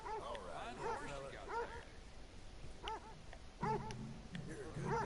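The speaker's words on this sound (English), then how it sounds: "You're a good dog." A dog in the video game Red Dead Redemption II whimpers and whines in a series of high, rising-and-falling cries, with a voice briefly speaking beneath them.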